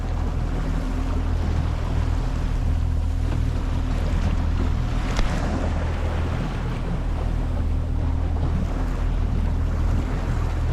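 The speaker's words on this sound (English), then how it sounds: "There'll be a lot of white water at the back of the boat." A fishing boat motors steadily through open sea on a marlin fishing trip, its engine and churning wake making a loud, constant wash mixed with wind buffeting the microphone.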